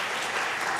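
An audience at a jazz concert applauds, a dense, steady wash of clapping heard close and alone for under a second.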